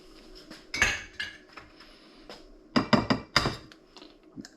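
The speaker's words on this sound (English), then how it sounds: "we're going to crack some eggs into the second bowl" Eggs are tapped and cracked against a bowl in a home kitchen while squid is being cooked, a couple of sharp clinking knocks followed by a quick cluster of taps, close and clear against a quiet room.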